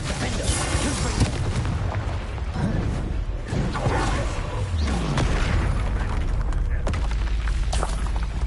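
Spell blasts, booms and whooshes from Hogwarts Legacy combat, dense and continuous with repeated sharp impacts, under intermittent in-game voices.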